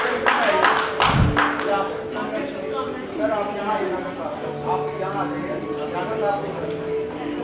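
Audience applause at an awards ceremony for honorary doctorates and global recognition, a burst of loud clapping early on that settles into steady applause under an announcer's talk.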